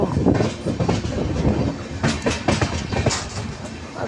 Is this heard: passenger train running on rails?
yes